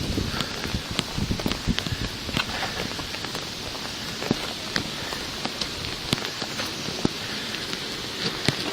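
Steady rain falls during a thunderstorm on the walk up to the Alhambra in Granada, Spain, a continuous hiss of drops broken by sharp, irregular close splats on hard surfaces.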